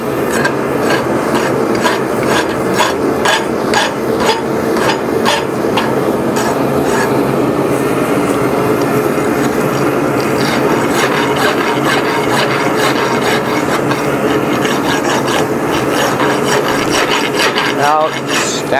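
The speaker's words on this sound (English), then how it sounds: "file off sharp edges again." Continuous rhythmic rasping as a hand rasp files sharp edges off metal clamped in a vise in a blacksmith's workshop, loud and close, with steady back-and-forth strokes throughout.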